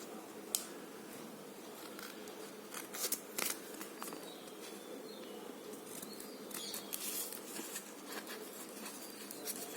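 Scissors snip through paper to cut out a shape in a classroom maths lesson on symmetry, a steady run of faint crisp cuts over a soft background hiss.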